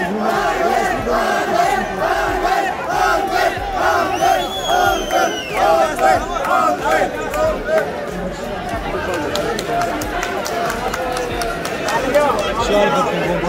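A dense crowd cheering and shouting while welcoming returning Survivor contestants home, a continuous roar of voices and whoops sustained throughout, with an announcer speaking over it.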